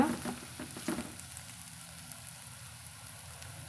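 Snake gourd poriyal cooks in oil in a pan, with a soft, steady sizzle and a few light stirring scrapes near the start, fairly quiet and without voices.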